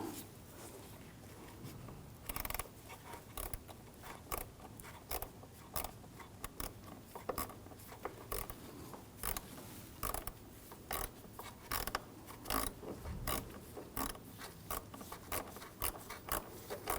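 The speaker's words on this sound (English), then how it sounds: "Now we're going to take these two bolts out on top. Use a T20 socket." A ratchet with a T20 socket clicks steadily while removing headlight bolts on a 2006–2009 Audi S4, up close, with metallic ticks and creaks in a continuous rhythm.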